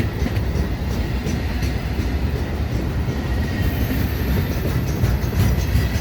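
A freight train led by SD40-3 locomotives rolls past close by, its wheels clacking rhythmically over the rails under a steady heavy rumble, with a faint high squeal.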